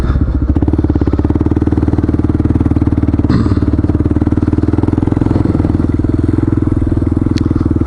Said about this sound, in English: Definitely be going a lot slower with the KLR.